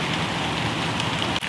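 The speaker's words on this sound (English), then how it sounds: "This rain's making it hard to hear. Little pops," Light rain falls steadily outdoors during a hunt on Texas public land, a dense close hiss of drops popping on surfaces with no let-up, cut by a brief dip near the end.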